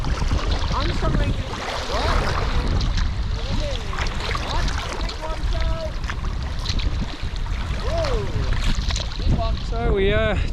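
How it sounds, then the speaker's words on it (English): Sea kayak paddled through choppy waves rounding a headland on a sea loch, with constant loud wind buffeting and water splashing throughout, and voices talking intermittently over it. "So we just had a few waves to contend with there."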